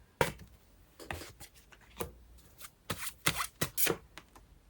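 Tarot cards drawn and handled from a deck: a series of quick, crisp snaps and flicks, irregular and close, growing busier toward the end with no talk over them.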